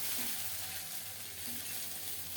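Chopped green chilies and mustard seeds frying in hot oil, a steady soft sizzle that holds evenly throughout, faint and close, with no talk.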